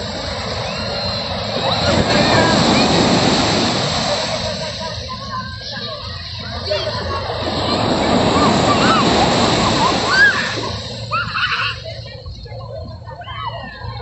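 Ocean surf washes ashore at Cabangaoan Beach in Pangasinan, a steady broad rush of breaking waves that swells and recedes twice across the clip, with voices talking over it.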